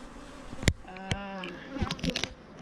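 Bees hum and buzz close by as a beehive is opened, a wavering drone with a few sharp knocks and clicks, fairly faint.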